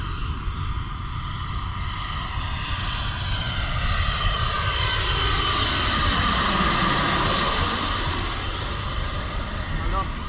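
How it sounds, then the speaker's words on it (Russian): A low-flying airplane coming in to land near Lanzarote Airport in the Canary Islands roars steadily overhead, its loud engine drone shifting in pitch as it passes close by. "И самолет на посадку идет."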